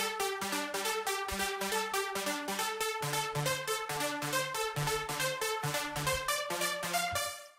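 A second synth pluck for an uplifting trance track in FL Studio plays a rapid, steady sequence of crisp, bright notes with a changing pitch pattern, clear and prominent with no speech.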